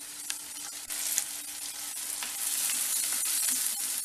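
Onion, garlic and turkey berries sauté in hot oil, a dense, steady sizzle with a few light stirring taps, heard close and without voices.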